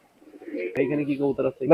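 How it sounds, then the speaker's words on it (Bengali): Domestic deshi Gribash pigeons coo at the Gollamari pigeon market in Khulna, a few short rolling coos up close with brief gaps between them, alone with no talk. "এখানে এক পেয়ার পুরাতন আমাদের খুলনার পুরাতন ব্যাট লাইনের এক পেয়ার দেশি গ্রিবাস কবুতর আছে"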